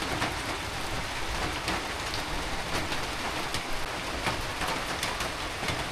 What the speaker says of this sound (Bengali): সকাল সকাল শুরু হয়ে গেছে আবারও বৃষ্টি